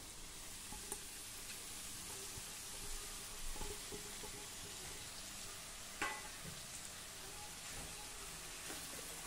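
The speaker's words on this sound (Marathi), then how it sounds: "मध्यम आचेवर आता हे आपण छान परतून घेऊ" Dal and peanuts sautéing in oil with freshly added chopped spring onion over medium heat, a faint, even sizzle with occasional soft clicks of stirring, no talk.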